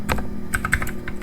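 Quick keystrokes on a computer keyboard during network configuration work, a brisk run of sharp, close clicks at an uneven rhythm with a faint steady hum behind them.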